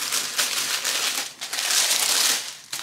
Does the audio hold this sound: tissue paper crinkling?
yes